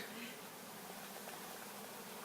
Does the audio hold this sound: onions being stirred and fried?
no